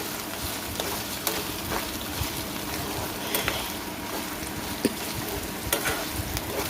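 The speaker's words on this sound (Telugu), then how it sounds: "ఇప్పుడు అల్లం పేస్ట్ కూడా దీంట్లో చూడండి ఎంత బాగా ఫ్రై అయిపోయిందో" Ginger paste and onions sizzle and fry in a pan, a continuous crackling hiss with scattered sharp pops, close and steady.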